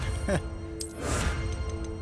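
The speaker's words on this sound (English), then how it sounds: "had to clear my throat right there" A person clears their throat once, a short, close, rough burst near the start, followed by a softer breathy rasp, over a steady low background hum.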